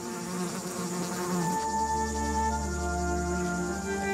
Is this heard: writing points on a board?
no